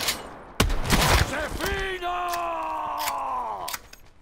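Shotgun blasts in the Black Ops 4 Blackout battle royale game, a few loud sharp bursts early on followed by a groaning character voice and more game effects.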